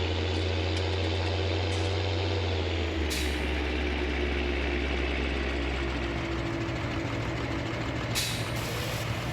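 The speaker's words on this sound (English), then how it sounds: "we can quickly get some TMR mixed up for them with the TMR mixer" Machinery running steadily in Farming Simulator 19, a TMR mixer blending silage feed on a farm, giving a continuous loud mechanical drone with engine hum and brief hissing bursts, no talk.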